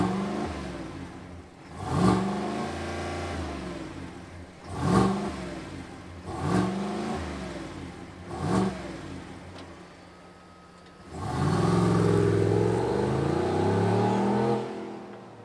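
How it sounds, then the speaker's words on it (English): A 2023 Chevrolet Tahoe RST with a cat-back exhaust revs up in four sharp blips with idle between them, then holds a longer sustained rev near the end, loud and close with no talking. "This thing's got a cat back exhaust. Why don't we fire it up and hear what it sounds like?"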